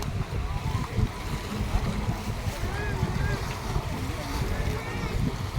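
Steady wind buffets the microphone beside the sea at the Family Boulevard in Cadiz City, Negros Occidental, with waves washing in the background and people talking under the noise.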